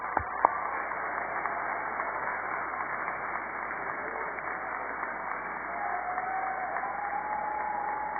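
A large crowd at a university commencement ceremony applauds its graduates in a steady, sustained wash of clapping. It sounds somewhat distant and muffled, and no one speaks.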